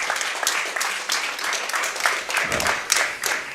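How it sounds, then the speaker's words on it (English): Audience applause for speedrunners after a Prince of Persia: The Two Thrones run, a lively, continuous clatter of many hands with a few sharper individual claps standing out. "Please give them a huge round of applause."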